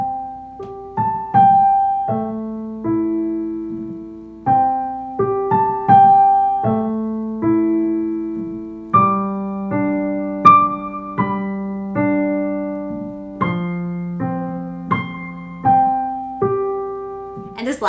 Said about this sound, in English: When we put it together and add the pedal for smoothness, it'll sound like this.